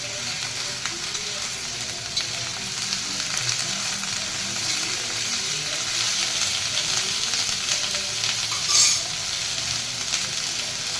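Ivy gourd frying in a pan, with a steady close sizzle and occasional soft stirring scrapes running continuously throughout.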